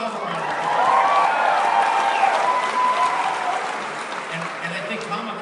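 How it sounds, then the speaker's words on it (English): A large convention-panel audience at WonderCon applauds itself, a sustained wash of clapping and crowd noise that builds, holds and slowly eases, with some cheering in the mix. "give yourself a round of applause."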